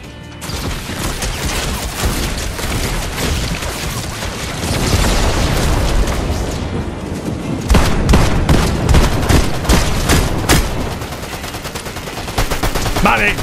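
Sustained gunfire in the battle royale game Fortnite, dense rapid shots and booms running nearly continuously and loudly throughout, with some voice mixed in.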